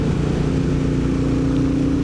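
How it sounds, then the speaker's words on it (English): A Royal Enfield Bullet motorcycle fitted with a Hitchcock's decat pipe gives a loud, steady, bassy exhaust drone that runs unbroken and close up, with no voices over it. "Hitchcock's decap pipe does make the exhaust a bit louder, but not obnoxiously so."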